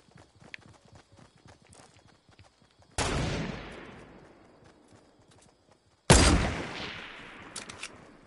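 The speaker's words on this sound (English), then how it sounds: "Wait, is that a semi-auto?" Two sharp, echoing gunshots from a video game ring out a few seconds apart, each decaying slowly over faint background clatter.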